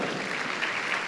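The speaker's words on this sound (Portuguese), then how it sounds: "Palmas pro Samuel" Brief burst of dense applause from a studio audience clapping for Samuel, steady and continuous with no gaps across the whole second.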